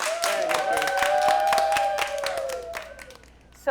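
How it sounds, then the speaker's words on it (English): A room of schoolchildren clapping in a brisk burst of applause, mixed with high excited cheers and squeals that fade over a few seconds. "Give yourselves a round of applause."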